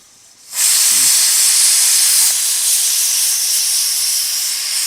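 A loud, steady hiss of steam starts abruptly after a brief quiet moment and holds continuously, like a pressure cooker venting.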